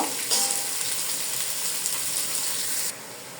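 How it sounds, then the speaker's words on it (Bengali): Onions fry in hot oil in a pan, giving a steady, close sizzle with faint stirring that drops away sharply near the end. "এখন আমি পেঁয়াজটাকে ভালো করে ভেজে নিব।"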